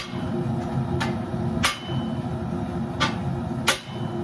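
A hammer strikes heated round iron stock on an anvil during blacksmith work restoring old iron garden gates, several sharp metallic hits at irregular intervals over a low background rumble.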